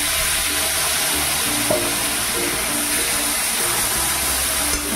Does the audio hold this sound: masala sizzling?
yes